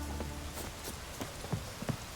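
Rain patters in The Witcher 3 game world, a quiet hiss with scattered drop-like ticks and a few soft thuds, no voices.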